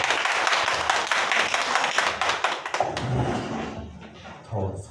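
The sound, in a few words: audience applause for a lecture speaker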